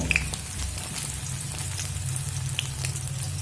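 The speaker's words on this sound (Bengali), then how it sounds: "দিয়ে সয়াবিনগুলো দিয়ে লবণ আর হলুদ দিয়ে ভেজে নেব" Soybean chunks frying with salt and turmeric over a low-to-medium gas flame make a continuous, even sizzle with occasional small pops.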